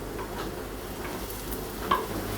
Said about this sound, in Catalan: Ara amb una paella fregirem el pa